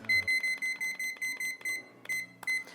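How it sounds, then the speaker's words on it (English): A handheld kitchen timer beeps in a run of about a dozen quick, sharp electronic tones close by, ending in a few spaced beeps as it is set. "I have my handy dandy timer here"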